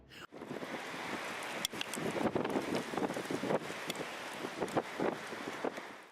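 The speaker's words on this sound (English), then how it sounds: "A gust of wind was seen twisting with a heavy thrust, forcing tall trees to move with its rhythm" Strong wind gusts roar during a heavy rainstorm, steady rushing noise with rain hiss and a few sharp buffeting bursts against the microphone, continuous and close, with no voices.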